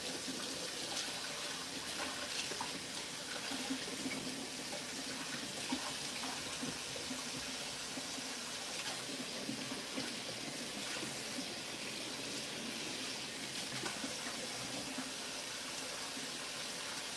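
Tap water runs in a steady, moderate stream as celery is rinsed before juicing, a continuous wash of splashing with no voices over it.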